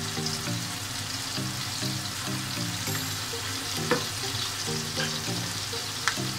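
Tomatoes cooking in a pan for Turkish menemen sizzle steadily with a dense, even crackle, and a few brief stirring clinks come through near the end.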